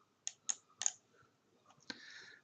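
Computer mouse clicking while installing a WordPress theme: three crisp, close clicks in quick succession, then a softer click and a final click, in a quiet room.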